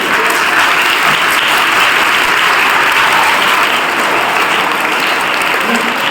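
A schoolroom of students claps along in unison at an event at Geeta Mandir school, a dense, steady wash of applause that holds evenly from start to finish with no talking over it.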